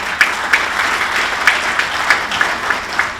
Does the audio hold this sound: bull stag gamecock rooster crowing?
no